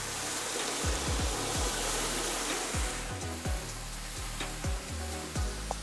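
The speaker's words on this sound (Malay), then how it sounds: "bila minyak dah panas kita masukkan uh, bahan kita ni bawang dan juga halia" Onion and ginger sizzle in hot oil for a beriani dish, a steady close frying hiss with occasional clinks and scraping of a utensil against the pan.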